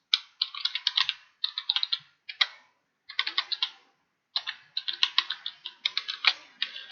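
A password is typed on a computer keyboard in quick bursts of crisp, close key clicks, separated by brief pauses, with no voices.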